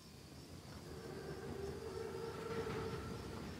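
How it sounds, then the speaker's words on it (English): A huge armored German train (Panzerzug) in Call of Duty WWII rumbles steadily in the distance, a faint, low continuous roar with a sustained tonal hum that swells slightly, no speech over it. "Train's right on time. Biggest train I've ever seen."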